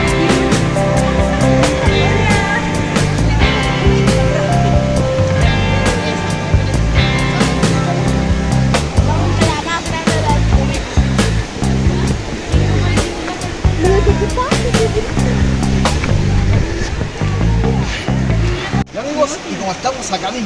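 River water rushes and splashes loudly and continuously near the Salto Mili Mili waterfall on a trekking trail, with people talking over the flow.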